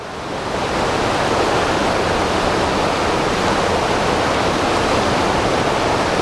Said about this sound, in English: Water pouring between the timbers.